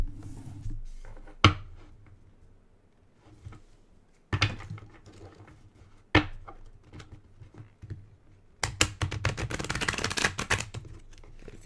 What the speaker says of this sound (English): these a good old shuffle.